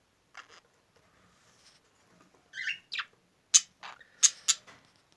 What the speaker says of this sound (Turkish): İlk kez yuvalık takılan e, muhabbet kuşlarımız